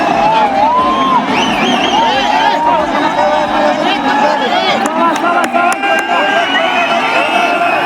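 A dense crowd of devotees at the Maa Nanda Bhagwati fair, loud continuous chatter and shouting voices close by, with occasional sharp knocks near the end.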